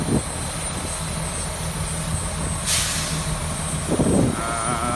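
Airplane engine at a small thatched-roof airport in the Dominican Republic, a steady loud droning hum with a brief rushing surge midway and a rumble near the end, no talking.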